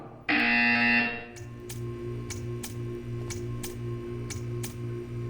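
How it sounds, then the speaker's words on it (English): A loud, flat electronic buzzer blares for about a second in the video game Portal 2, then stops, leaving a steady low hum with faint regular ticking. "You will hear a buzzer. When you hear the buzzer, stare at the art."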